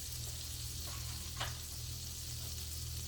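Oil and butter sizzle steadily in a pan for T-bone steak, a soft continuous frying hiss with a brief louder crackle midway, heard alone and fairly quiet.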